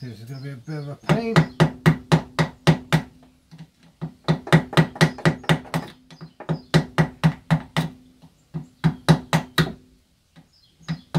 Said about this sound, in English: with a few love taps with the old hammer